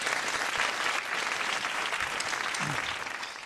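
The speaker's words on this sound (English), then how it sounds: "big round of applause to Warren Hutchinson from LBI." A sustained wash of audience applause at a Pecha Kucha design presentation event, steady and full throughout with no speech.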